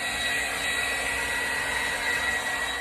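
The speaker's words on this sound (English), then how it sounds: "use your blow dryer just to get all the..." A blow dryer roars steadily at close range, blowing loose debris off a handmade succulent wreath with an even, unbroken whoosh.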